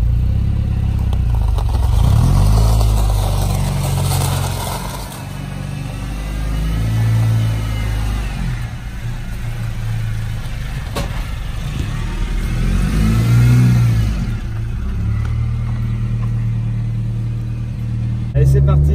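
A 1988 Austin Mini's engine running close by, idling low and rising in several revs, with rattles and clatter over a steady drone while people talk throughout.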